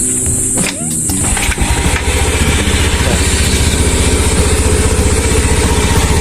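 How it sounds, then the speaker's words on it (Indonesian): A Honda Beat scooter fitted with upgraded Daytona double clutch linings and a Kartel clutch bell starts up close by, then settles into a loud, steady, throbbing idle as it warms up. "Nah, sini bakal gue hidupin dulu. Nah, gue juga mau manasin motor sih,"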